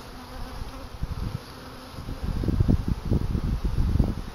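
Honey bees buzz around an open hive during a late-winter apiary check, a close, dense insect drone that starts softer and swells louder and busier halfway through.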